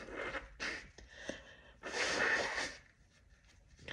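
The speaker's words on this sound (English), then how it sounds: "Just trying to look up my nose as I blow my nose" A person blows their nose in a few short, breathy bursts, with one longer, louder honking blow in the middle, close and fairly loud.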